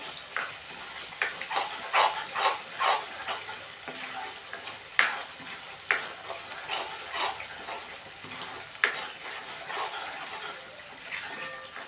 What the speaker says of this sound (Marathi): मसाला चांगला परतून घेऊया